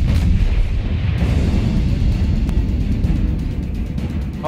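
Warship guns firing in a naval battle video game: a loud, rumbling booming blast that fills the whole stretch, with a sharp crack partway through and no talking.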